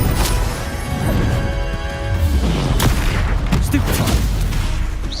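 Confringo blasting spells burst in Hogwarts Legacy, loud booming blasts and crashing impacts that roll one into the next across a few seconds of dense, continuous combat noise.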